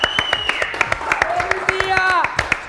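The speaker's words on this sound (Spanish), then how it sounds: "¡Un aplauso!" A studio audience claps for a guest at the end of a morning coffee-chat interview, sharp, rhythmic hand claps close by, with a host talking over them.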